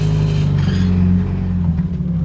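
A Honda Civic pulls away with a steady, low engine rumble, close and fairly loud throughout, swelling slightly midway before settling, with no talking.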